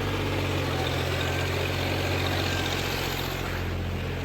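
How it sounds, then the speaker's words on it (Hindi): A John Deere 5036D tractor with a 7-foot rotavator runs its diesel engine at a steady idle, a loud, continuous low rumble with no talk. "ये छोड़ दी क्लच और ट्रैक्टर घूम गया अपने आप"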